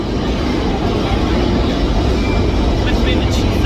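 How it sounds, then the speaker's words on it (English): A subway train in an immersive, Manhattan-themed audio setting gives a heavy, steady low rumble that fills the whole stretch at high loudness, with a faint rattle near the end. "That'll be the subway train."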